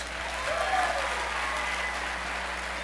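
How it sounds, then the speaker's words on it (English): A comedy club audience claps in a steady, full round of applause, dense and sustained at an even level with a low hum underneath and no one talking. "Give them all a big round of applause."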